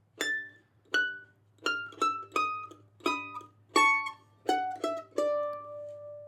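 A plucked mandolin plays a short rhythmic phrase of picked notes, each attack bright and ringing before decaying, solo and close.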